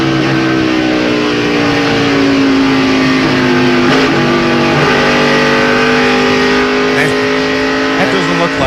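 Onboard a stock car at the 2002 Pennsylvania 500 going down into a corner, the engine drones loud and continuous with shifting revs. Crowd or broadcast noise adds a faint background wash throughout.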